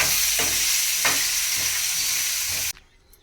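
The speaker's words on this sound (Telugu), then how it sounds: "ఇప్పుడు పోపు వేస్తున్నాను చట్నీ కోసం" Tempering spices (popu) for a chutney sizzle loudly in a hot pan, a dense continuous crackle with a few stirring scrapes, then cutting off abruptly near the end.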